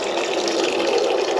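Cooling water gushing out of the hull side from a battery-powered 12-volt marine air conditioner on a Nimbus T11 boat, a steady hissing splash heard up close.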